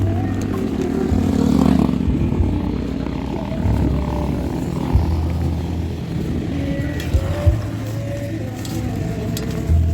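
Steady engine drone of traffic with many motorcycles passing close by on a dark road, a low motor rumble rising and falling throughout with occasional brief louder bumps.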